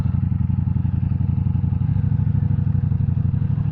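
A 2023 Ducati V4 Diavel's engine thrums close by with a steady, loud, pulsing low rumble, its rapid even firing throbbing without a break and no voices over it.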